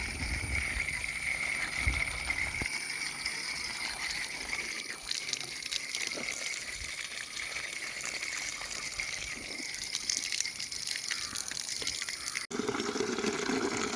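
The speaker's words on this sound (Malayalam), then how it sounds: "വെള്ളം താ ഇതിലിങ്ങനെ ഒഴിച്ചു കൊടുത്താൽ എല്ലാ തൈയിലും എത്തും" Continuous gushing of water being poured onto seedlings at a steady, moderate level, with a brief break near the end.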